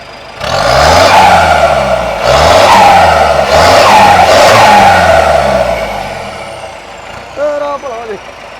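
A modified jeep engine revs hard several times in succession, each surge climbing in pitch then falling back, loud and close, before the engine settles and a voice briefly speaks near the end.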